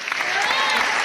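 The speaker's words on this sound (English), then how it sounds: "Get that applause button ready" An applause sound effect, a short burst of dense clapping with crowd noise, mixed with talking voices and lasting about a second.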